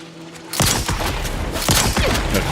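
Rifle and shotgun gunfire in The Outer Worlds 2 video game breaks out in a dense, loud barrage of overlapping shots and booms after a brief quiet moment, then continues without letup.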